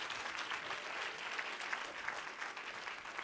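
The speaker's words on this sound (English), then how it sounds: "Clap your hands for Jesus all over this room." A church congregation claps hands steadily during a worship service, a dense patter of many claps filling the room without pause.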